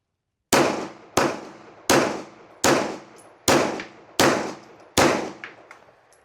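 Seven loud Glock 19 Gen 5 pistol shots fired one-handed, each a sharp crack with a ringing decay, spaced about two-thirds of a second apart, close and with no talking.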